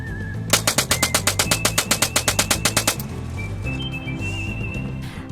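A homemade .22 caliber minigun fires a rapid burst of about twenty sharp, evenly spaced shots over roughly two and a half seconds, loud and close, followed by a lower mechanical rattle.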